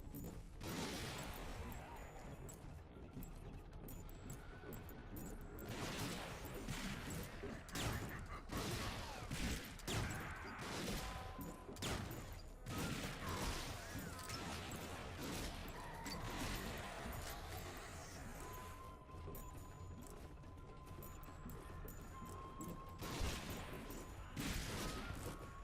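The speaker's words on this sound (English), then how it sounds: "It's the sniper rifle of Darkwatch." Sniper rifle fire in the shooter game Darkwatch, several sharp blasts scattered across a long stretch of busy, noisy game audio with crashes and mechanical clatter.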